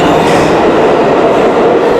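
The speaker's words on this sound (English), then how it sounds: "we're starting where all adventures in New York City start, the subway." A New York City subway train rumbles loudly and continuously, a dense close roar of wheels and motors on the tracks with no talk.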